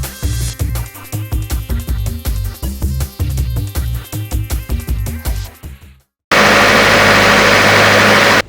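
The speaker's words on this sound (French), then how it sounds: "Le matin, la journée, comme le soir, on ne fait qu'entendre ces bruits des moteurs." Generator engines run during a power outage: rhythmic throbbing engine pulses for several seconds, then a short silence and an abrupt switch to a loud, steady roar.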